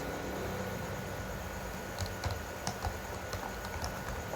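A computer keyboard typing out a folder name: a short run of close, crisp keystrokes in the second half, over a steady background hiss with no talking.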